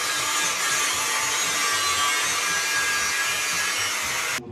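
An angle grinder cuts through the exhaust tailpipe tips of an Abarth in a car workshop, a steady loud grinding whine that runs without a break for about four seconds before it stops abruptly.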